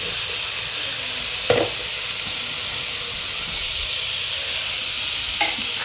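Onion, tomato, green and dry red chilies, bay leaf and black pepper roasting in a pan, a constant loud sizzling hiss with a couple of brief spoon knocks against the pan.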